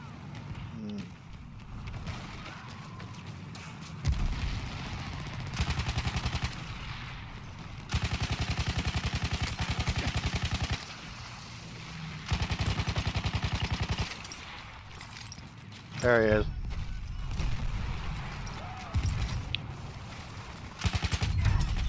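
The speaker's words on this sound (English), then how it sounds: "Bullets be flying all around" Battlefield 1 combat gunfire crackles in repeated bursts and rapid machine-gun volleys, swelling and dropping in loudness across about twenty seconds.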